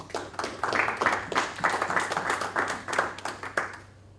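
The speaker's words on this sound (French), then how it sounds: "Vous pouvez l'applaudir." An audience applauds together, a dense, steady patter of many hands clapping for several seconds before tapering off near the end.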